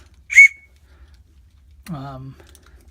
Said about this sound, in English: Next thing on here is just a aluminum whistle,